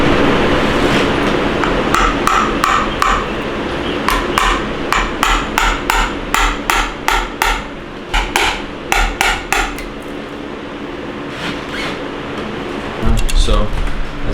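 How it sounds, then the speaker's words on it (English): Hammer taps a piston into the cylinder of a 4G63 engine during a rebuild, a long run of sharp metallic knocks in uneven bursts over steady background noise. "I need a hammer."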